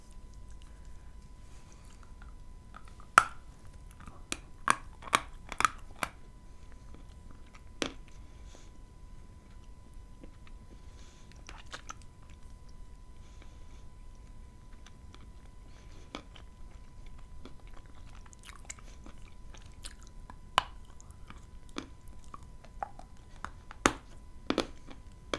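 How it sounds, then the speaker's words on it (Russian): A crunchy Kyrgyz snack is bitten and chewed right up close, with sparse, crisp cracks and clicks scattered over a quiet background. "Вот ее откусишь, она разлетается на куски"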